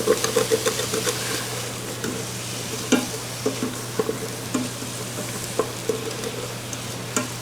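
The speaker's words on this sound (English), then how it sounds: "red wine, which is then going to deglaze the bottom of that pot and pick up all the fond that's at the bottom of the pot" Red wine deglazes the bottom of an Instant Pot, loosening the fond from braised lamb shanks, giving a steady close sizzle with scattered scraping and stirring knocks and a low constant hum underneath.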